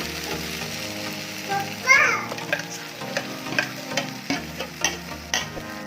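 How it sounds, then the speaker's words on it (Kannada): Ground spinach and methi greens stirred into sizzling masala for a palak methi sambar: a soft steady sizzle under repeated scraping spoon strokes in the pan, with no talking. "ಒಂದ್ಸಲ ಮಸಾಲ ಜೊತೆ ಸೊಪ್ಪನ್ನ ನೀಟಾಗಿ ಮಿಕ್ಸ್ ಮಾಡ್ಕೋಬೇಕು"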